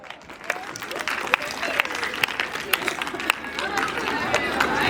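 An audience at a school award ceremony claps for a prize winner, scattered sharp claps building into fuller applause amid crowd chatter.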